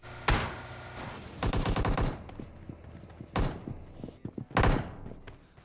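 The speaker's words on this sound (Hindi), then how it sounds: "दबा के गोलियां चला रहे होते हैं ये लोग।" Automatic gunfire in the video game PUBG Mobile crackles in several sharp rapid bursts separated by short pauses, loud and punchy, with faint talk underneath.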